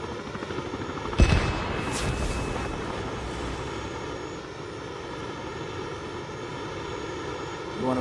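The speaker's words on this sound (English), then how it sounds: "You wanna fly helicopters that bad?" A helicopter in a video game drones overhead with a steady rotor thrum after a sharp impact near the start, holding at moderate loudness throughout.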